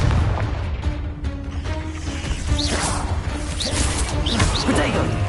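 A Confringo fire spell blast in Hogwarts Legacy: crashing, booming impacts and popping bursts amid dense combat noise, loud and continuous, with a voice speaking over it.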